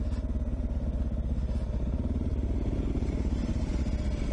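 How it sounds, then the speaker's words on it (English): A big KTM 1090 motorcycle drones steadily as it is ridden, its engine pulsing in an even, continuous rumble with a rattly edge, fairly close and loud with no voices over it. "Alastair on the big KTM 1090"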